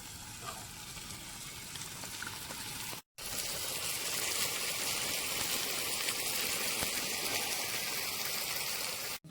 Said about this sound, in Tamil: இப்போ தயிர் ஊற்றுறேன்.